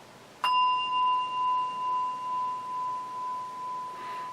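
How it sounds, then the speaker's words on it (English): A single clear bell ding, struck once and left to ring out with a long, slowly pulsing sustain that fades gradually in a quiet room. "I just did Jolson's bell. I'll do it again."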